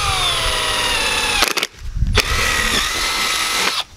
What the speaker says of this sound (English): drill straight through that pipe